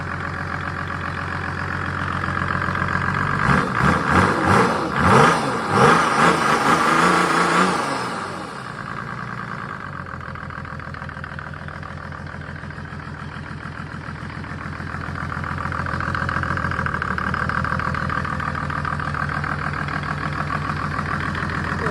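A Mercedes OM606 turbo diesel engine, warmed up, idling; a few loud revs settle into a steady, rumbling idle with a faint whine.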